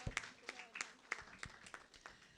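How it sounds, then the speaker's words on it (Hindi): Church congregation at a Christmas service clapping for the Lord, a quiet, steady run of sharp handclaps in a loose, regular rhythm over a faint background murmur. "ताली बजाए प्रभु के लिए।"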